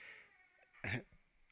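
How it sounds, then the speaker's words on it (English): A cat gives one short, loud meow while climbing in a pile of washing at home, rising over a steady background hum, with faint sounds before and after. "There's a cat climbing in the washing in the background of the video."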